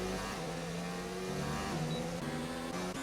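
Formula 2 race cars on a sim racing circuit in Britain, a dense continuous engine whine with several overlapping pitches shifting up and down as cars run close together, loud and steady, no talk.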